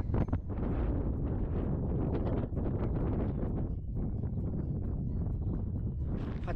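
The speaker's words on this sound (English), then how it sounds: "It's really windy" Strong wind buffeting the microphone on a misty hilltop at Long Mynd, a loud, continuous low roar with gusty surges and rustling, no speech.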